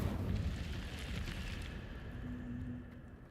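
The Incendio fire spell in Hogwarts Legacy goes off with a loud roaring burst and whoosh of flame that rumbles and fades over a few seconds, no voices.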